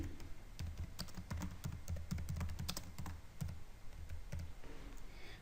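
Typing on a computer keyboard while filling in a software form, a quiet, steady stream of soft key clicks with irregular rhythm and a few louder taps, close and alone without any voice.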